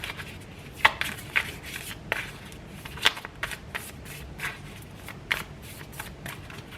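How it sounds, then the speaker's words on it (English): Tarot cards being shuffled by hand, a run of crisp riffling bursts and soft slaps in an irregular rhythm, close and fairly quiet with no talking. "I want to make sure I get a good shuffle, because that's how I clear out the energy."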